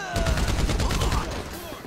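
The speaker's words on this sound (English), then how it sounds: "Sniper fire." Gunfire during a sniper attack in Grand Theft Auto V on PS5: a loud, rapid volley of cracking shots close by, rattling in quick succession before easing off slightly toward the end.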